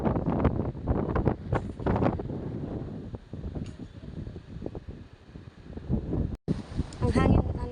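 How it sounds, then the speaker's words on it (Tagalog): Strong wind outdoors in Dubai buffets the microphone in heavy, rumbling gusts, with a brief dropout near the end and what sounds like a voice mixed into the roar. "Ang hangin ano dito sa labas."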